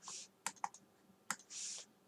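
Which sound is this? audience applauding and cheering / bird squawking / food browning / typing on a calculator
typing on a calculator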